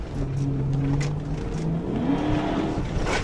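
A police car drives in circles around an apartment complex's backyard, its engine holding a steady drone with rising revs and shifting pitch, close and continuous for the whole stretch.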